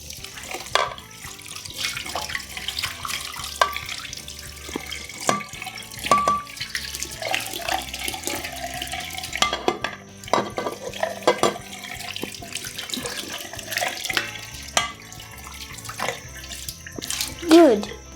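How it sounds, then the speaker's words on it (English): Tap water runs and splashes into a kitchen sink as dishes and utensils are rinsed by hand, a steady irregular spatter with clinks throughout, close and moderately loud. "now let's rinse it."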